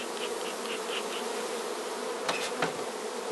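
Honeybees crowd a hive frame, their dense, steady buzzing filling the air up close, with a couple of faint clicks near the end and no talking.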